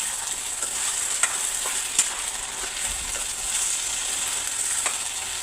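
Potatoes are stirred in a pan with salt and turmeric, giving a soft steady sizzle under a few scattered scrapes and clacks from the spoon, close by and without speech.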